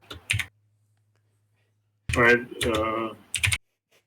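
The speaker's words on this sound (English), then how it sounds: "I like the violent typing noises." Computer keyboard typing comes through as a few quick, sharp key clicks at the start and again near the end, around a short stretch of a person speaking.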